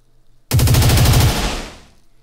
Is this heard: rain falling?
no